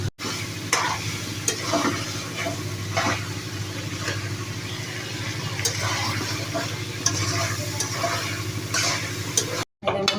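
Food frying in oil for a biryani, a constant close sizzle broken by regular scraping stir strokes over a low steady hum, with a brief cut to silence near the end.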